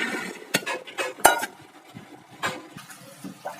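Soft clattering and clinking of soaked dried peas dropped into a metal pressure cooker, with a few light knocks and rustles, close by and fairly quiet.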